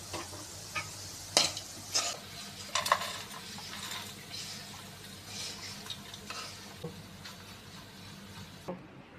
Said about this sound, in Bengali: ভাজা হয়ে গেছে, কালারটাও খুব সুন্দর এসেছে। এখন আমি নামিয়ে নেব।